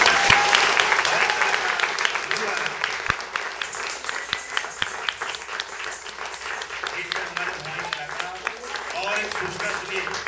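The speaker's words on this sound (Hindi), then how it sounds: "जरा जोरदार तालियां बजाइए।" Loud applause from a crowd at a traditional Rajasthani puppet show and folk dance in Udaipur, many hands clapping in a sustained wash with sharp individual claps standing out and a little voice mixed in.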